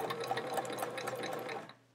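A sewing machine runs in a fast, even whir while chain piecing quilt chevrons, stitching close and alone before stopping abruptly near the end.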